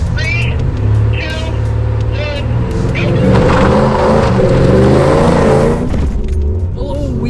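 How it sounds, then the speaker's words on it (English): Vintage Chevrolet Corvettes launching side by side in a drag race, engines roaring loud and close with a rising rev and a tire-spinning strain, while a person talks over the noise. "Oh, wheel spin. We're actually pretty neck and neck off the line."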